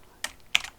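Two short bursts of computer keyboard typing, one around the quarter-second mark and a slightly longer cluster later, crisp and close against a quiet background.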